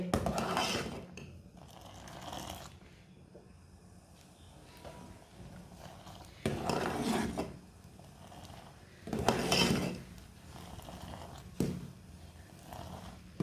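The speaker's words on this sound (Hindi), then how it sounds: "इसी तरह फेंटते हुए पकाना।" Milky tea being whisked as it cooks in a pot, with bursts of clattering metal and scraping strokes recurring every few seconds over a steady low simmer, close and moderately loud, no voices.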